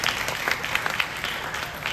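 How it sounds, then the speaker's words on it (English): An audience applauds at a school athletics department gathering in brief, dense clapping over about two seconds, with no speech over it. "A round of applause, Mr."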